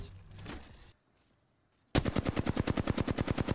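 Rapid automatic gunfire from the video game Apex Legends, a steady burst of evenly spaced loud shots after a short noisy stretch and a brief silence.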